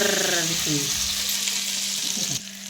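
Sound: tadka, tempering spices sizzling in oil

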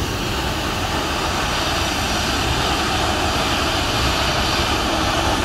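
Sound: airplane engines at Toussaint Louverture airport

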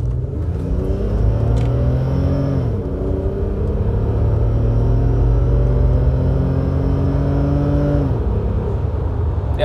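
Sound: car engine with loud exhaust

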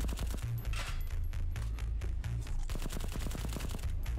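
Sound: gunfire in the video game VLADiK BRUTAL

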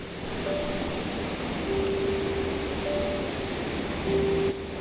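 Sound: Pha Ngam Ngon waterfall flowing

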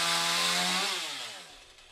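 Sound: chainsaw sawing off tree limbs

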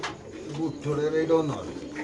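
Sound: racer pigeons cooing

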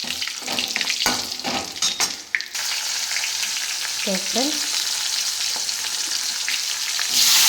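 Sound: cumin seeds frying in a pan

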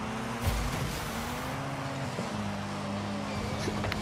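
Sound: Ford Bronco car driving in Rocket League video game

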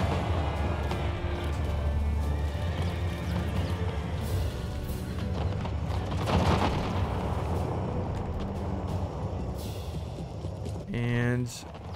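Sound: cannon fire in the video game Empire 2

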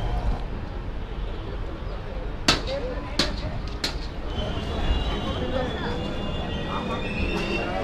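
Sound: Saraighat Express train entering Bardhaman

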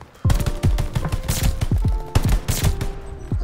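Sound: gunfire from a weapon in a video game

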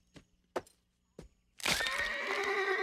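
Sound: pony neighing

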